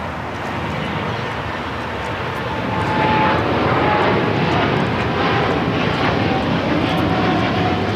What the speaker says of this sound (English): we got the Japan Airlines Dreamliner. The One World livery now rolling down 25 right.